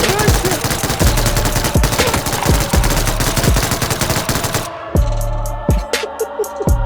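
Rapid bursts of PUBG gunfire, with automatic weapon fire rattling continuously and loud single shots punctuating it, then a brief lull with a few scattered shots.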